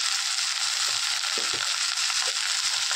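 Green chilies dropped into hot oil with already-fried garlic, giving a steady, loud, close sizzle with crackle and a few soft clicks of a utensil throughout.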